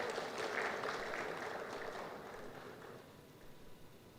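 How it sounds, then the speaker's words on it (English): An audience at an industrialisation forum applauds, a soft, distant patter of clapping that slowly fades away. "I want to ask everybody to appreciate them by way of clapping"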